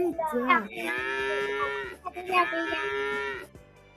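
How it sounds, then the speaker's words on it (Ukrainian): A calf moos loudly and close in two long drawn-out calls, with a short pause between them and no voices over them. "здогадаюся, це телятко"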